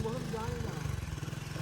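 A motorcycle engine idles nearby with a steady low rumbling throb, running continuously beneath a voice that talks over it.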